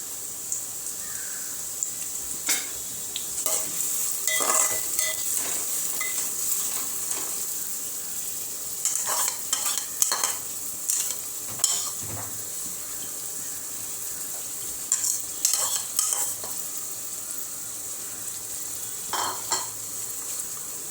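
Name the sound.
onions frying and being stirred for keema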